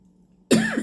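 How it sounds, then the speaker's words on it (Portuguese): During a church sermon, one sharp cough bursts out after a quiet moment and trails off briefly at moderate volume. "Estou tentando me livrar dessa tosse, mas ainda não consegui."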